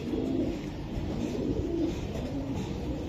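A club racing pigeon coos in repeated soft, low rolling calls, close by over a steady background hum, with no talking.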